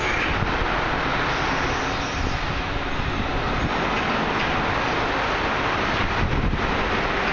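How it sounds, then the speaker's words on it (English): An automatic car wash at a Chevron gas station sprays and brushes a 2008 Pontiac Grand Prix GXP, making a continuous, dense rush of water jets and churning brushes close by, steady throughout with no talking. "It's nice coverage for a car wash like this."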